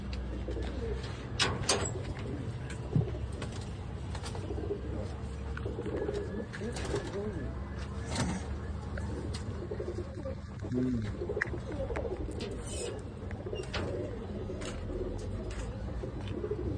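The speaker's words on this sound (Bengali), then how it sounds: "সৌরভ অসংখ্য অসংখ্য ধন্যবাদ এত সুন্দর একটা কবুতর উপহার দেওয়ার জন্য" Soft, low pigeon cooing repeats near and far against a faint background, with some quiet talking and light rustling now and then.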